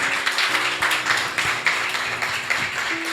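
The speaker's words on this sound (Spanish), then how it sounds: "Dale un aplauso a Él." A church congregation applauds together during a Spanish-language worship service, a sustained, fairly loud wash of clapping with a steady rhythm and a faint tonal hum underneath.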